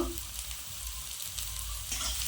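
Chopped onion with cumin seeds and green chili fries in a pan, a dense, constant close sizzle.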